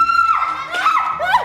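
A person screams and shouts in a household drama scene, loud high-pitched wailing cries rising and falling close by over a brief moment.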